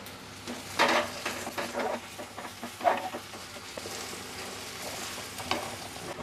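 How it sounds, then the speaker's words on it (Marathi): Crushed garlic added to softened onion in a pan sizzles steadily while being stirred, with a few louder scraping bursts of the spatula over the continuous frying hiss. "आता यामध्ये आपण लसूण घालूया आणि हा लसूण ना मी ठेचून घेतलेला आहे।"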